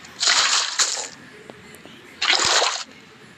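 In Minecraft, water is emptied out in two short splashy bursts, the first a double splash and the second a single pour, with quiet game ambience between them.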